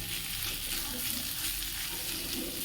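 Ridge gourd, potatoes and yardlong beans sizzle steadily in a hot pan, a dense, even crackle with faint stirring sounds and no talking.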